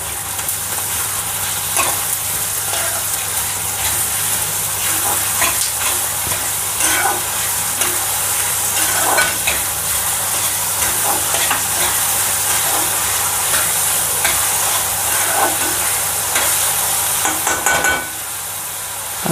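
Chopped onion frying in a pan with salt and a little green chilli for a street-style spicy egg dish, a constant loud sizzle broken by repeated scraping and stirring strokes, with no talking.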